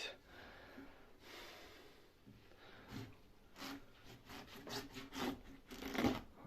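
A knife slices open a watermelon, giving a series of crisp cracking and rind-splitting snaps that build toward the end, close and moderately loud, with faint handling and rustling in between.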